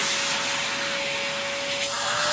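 A Riccar Tandem Air R40 vacuum cleaner runs with its tool attachment valve open, giving a loud, steady airflow roar with a sustained motor whine throughout and no speech.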